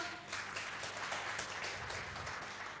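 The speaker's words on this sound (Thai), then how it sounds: "ขอเสียงปรบมือให้กับผลิตภัณฑ์เราด้วยครับ" Audience applause at a health food sales motivation seminar, a soft, steady wash of many hands clapping, heard from some distance and fairly faint.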